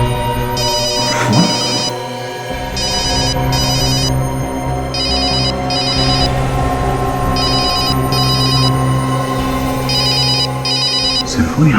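A cellphone rings with a repeating electronic ringtone in regular paired bursts over a loud dramatic background score, the rings going on throughout.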